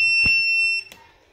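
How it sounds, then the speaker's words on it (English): A Snap Circuits Beginner toy horn buzzes with a steady, high electronic tone for under a second after a soft knock, then cuts off, leaving only quiet room sound. "Okay, so now we got a noisy toy. Light and sound. A horn."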